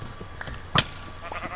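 A sheep bleats in the DotCraft video game, a short burst standing out near the middle over a low synthetic background hum, with a few fainter blips around it.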